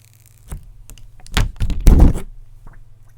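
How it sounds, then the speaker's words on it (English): Protective film is peeled off the back of a new iPhone XR while it is unboxed: a few close, loud crinkling and tearing plastic sounds come in two main bursts, with soft handling thumps and a low hum underneath. "So basically we peel the back off first, and I know you like to hear this"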